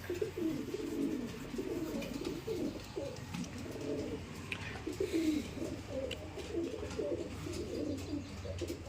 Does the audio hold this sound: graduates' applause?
no